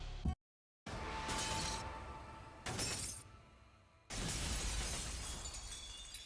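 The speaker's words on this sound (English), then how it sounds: "We have to use our Fix-It Felix hammer to break the glass?" A glass pane shatters under a hammer blow in the Danganronpa V3 video game, with several loud bursts of breaking glass and crashing debris separated by a brief silence.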